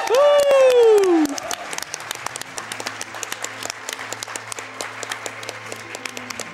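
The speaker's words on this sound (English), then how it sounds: "let's give Rivers a big round of applause before we get started on his run" Crowd applause at a live speedrun charity marathon event follows a loud whoop, then settles into steady, fairly even clapping from many people that continues to the end.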